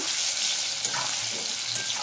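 Potato chunks with salt and turmeric fry and get stirred in a pan, a close, even sizzle with a couple of light scraping knocks from the spoon.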